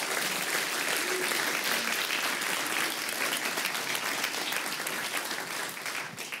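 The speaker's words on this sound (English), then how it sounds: "I would like you to give a very warm round of applause to Professor Markus Gabriel." A lecture audience gives a warm round of applause for a visiting philosophy professor, a dense, sustained clapping from a large crowd that stays loud and only eases slightly at the very end.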